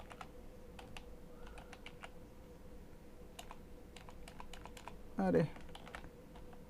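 Soft, scattered keystrokes on a computer keyboard tap out a few words in a quiet room, faint and irregular, with a brief spoken word near the end.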